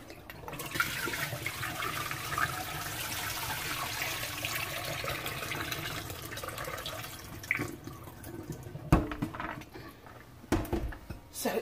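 Rinse water from soaked beans in a kitchen is poured out into a sink, a sustained gushing splash, then clattering of a pot and a few brief knocks as it is set aside.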